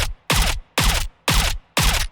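Apex Legends Nemesis gunfire in a video game: five sharp, loud muzzle blasts at an even pace about half a second apart, each a bright crack with a short decaying tail, nothing else heard between shots.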